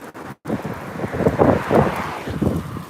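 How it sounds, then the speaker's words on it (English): Cold wind gusting outdoors on a small-town main street in Stevensville, Maryland, a loud rumbling buffet against the microphone that surges and eases over a few seconds, with a brief dropout near the start. "You'll hear wind. It's super cold."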